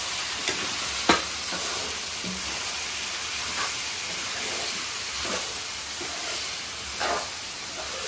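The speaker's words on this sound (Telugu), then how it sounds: "ఒకసారి కలుపుకుందామండి" Andhra-style boti (tripe) curry being stirred in a pan: a steady sizzle and steamy hiss runs throughout, with a few brief scraping strokes of the spoon at irregular intervals, close and moderately loud, with no talk.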